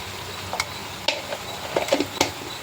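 Tomatoes fry in a pan for a tomato chutney, a constant sizzle broken by scraping stirs and light clinks of a spoon against the pan.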